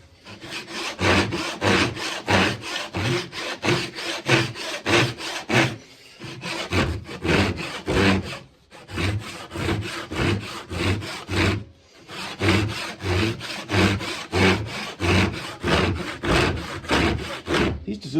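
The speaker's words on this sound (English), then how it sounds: "These Suzuki saws are great." Rhythmic back-and-forth strokes of a Suzuki hand saw cutting a dovetail into a wooden guitar neck, steady and close, with two brief pauses between runs of strokes and no talking.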